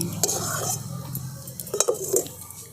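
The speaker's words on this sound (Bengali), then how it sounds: "এই থালার মধ্যে মেলে দিচ্ছি, যে ঠান্ডা হয়ে যাবে তাড়াতাড়ি" Cooked coconut filling scraped and spread onto a plate, with soft squishy scraping and a few light clinks of a utensil against the metal plate, close and fairly quiet.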